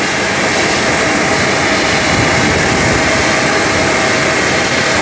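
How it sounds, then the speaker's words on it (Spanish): Steady, loud jet airplane engine roar as the aircraft prepares to depart, a broad continuous rumble and hiss with a faint high whine on top, unchanging throughout and with no talking. "Este avión está a punto de partir."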